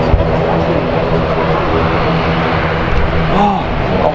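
An Aegean airliner takes off at Manchester Airport with a loud, steady jet engine roar that rises slightly near the end, while a person talks over it.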